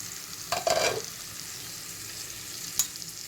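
Onions sauté on low heat in a pan for chicken curry, a soft steady sizzle with a couple of brief scrapes of a spoon stirring, no talk.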